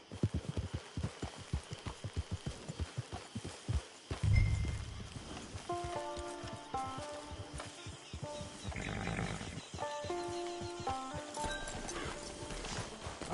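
A horse trots in Red Dead Online with a quick, regular clip-clop of hooves, then gives a loud snort and whinny as music rises and the hoofbeats continue under it.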